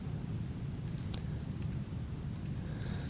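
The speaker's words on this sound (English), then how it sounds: "we can do this by typing SPM -12" Computer keyboard keys are typed in a few light, sparse clicks over steady background hiss, with no voices.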